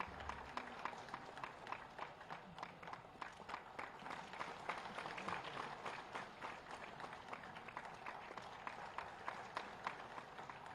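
Steady applause from a large audience at a government ceremony in Uttar Pradesh honouring teachers, dense, even clapping that runs unbroken throughout at moderate level with faint crowd murmur underneath.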